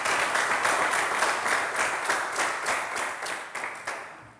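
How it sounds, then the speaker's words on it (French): A studio audience at a French television quiz game show claps steadily for a contestant, a dense, fairly loud wash of hand claps that holds for a few seconds and then slowly thins out. "Merci d'applaudir pour Francesco."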